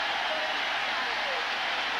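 A sellout crowd at Yankee Stadium during a 1997 Detroit versus New York baseball game, a steady broad wash of applause and cheering filling the whole stretch.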